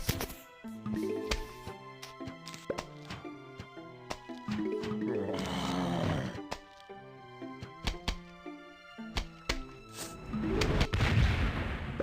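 Plants vs. Zombies explosions burst out amid bright musical tones and chimes, with a big rumbling blast near the end.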